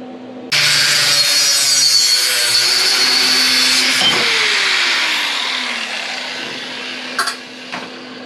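A wooden temporary brace is cut off a Lincoln Zephyr body, a loud, steady rasping saw sound running about five seconds before slowing and fading, with a couple of short knocks near the end.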